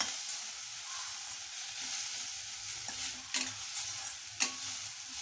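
Grated ridge gourd with methkut being stirred and sautéed in a pan, a steady soft sizzle with a few scraping stir strokes, close and fairly quiet, with no talking.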